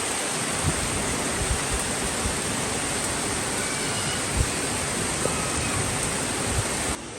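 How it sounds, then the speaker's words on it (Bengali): Heavy rain driven by strong wind pours down in a dense, continuous roar, with scattered louder drips and gusts breaking through the steady wash. "বৃষ্টির চাইতে বাতাস বৃষ্টি দেখি কি পরিমাণ বাতাস যেমন বাতাস তেমন বৃষ্টি"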